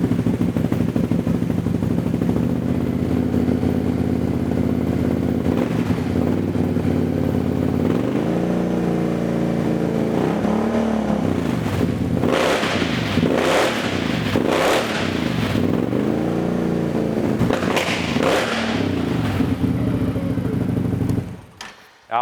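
Can-Am XMR 1000 engine fitted with an RJWC slip-on exhaust, idling loudly at first, then blipped through several sharp throttle revs that rise and fall, ending abruptly; no talking.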